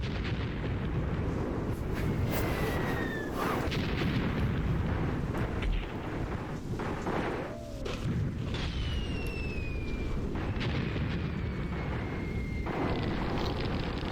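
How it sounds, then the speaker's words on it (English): Mortar and artillery fire in the wargame Graviteam Tactics, a dense continuous rumble of distant explosions and booms with occasional whistling shells, steady and loud throughout. "So now I'm getting mortar fire on the flank trench."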